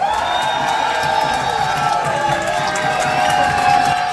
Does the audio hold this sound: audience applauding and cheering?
yes